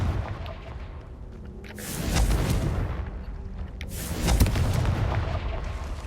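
Confringo explosive spell blasts in the video game Hogwarts Legacy, two heavy booming bursts a couple of seconds apart, each with a rumbling whooshing tail over a constant low background.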